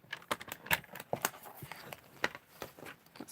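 Scissors snip scrap paper strips into small pieces, a quick run of sharp, close, irregular cutting clicks with quiet gaps between them.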